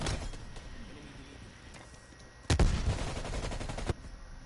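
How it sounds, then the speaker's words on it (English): Rifle fire from a Type 25 in the Call of Duty Cold War beta, a rapid automatic burst that starts abruptly and runs for about a second and a half before cutting off, loud over faint game ambience. "I like the Type 25 except for the part where it, like, runs out of ammo real quick"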